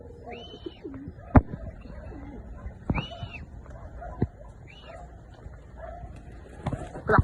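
Pigeons at a racing-pigeon loft during an area pooling race, with soft cooing calls and a few sharp wing-clap or landing knocks spread across the clip at moderate distance.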